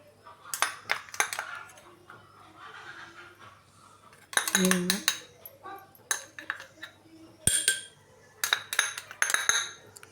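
A spoon clinks against a bowl as four small spoonfuls of custard powder are stirred into milk, bright metallic taps coming in scattered bursts while someone speaks over them.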